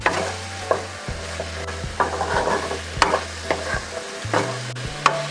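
Broccoli sautéing in a pan for beef with broccoli and mushroom, with steady close stirring and scraping over a low frying sizzle, spoon knocks landing every second or so.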